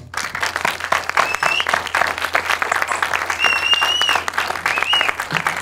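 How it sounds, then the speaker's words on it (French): An audience at a French film conference applauds steadily for several seconds, a dense wash of clapping with a few faint whoops rising above it. "on peut l'applaudir"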